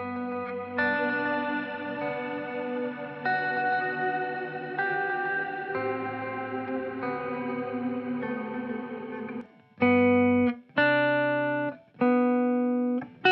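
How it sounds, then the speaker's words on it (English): A sustained guitar pad with delay and shimmer reverb swells through layered chords with lush shimmering reverb and trailing echoes, then three sharp, separate chord stabs ring out near the end. "here is a guitar pad track that has a delay and a shimmer reverb"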